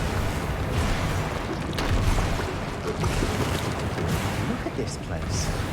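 A Bombarda blasting spell detonates in Hogwarts Legacy, a broad rumbling explosion with scattered debris crackle that sustains through the moment, fairly loud and close.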